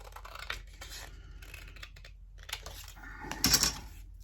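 Scissors snip a strip of white paper in a few short, quiet cuts with light rustling, and the last cut is the crispest and loudest.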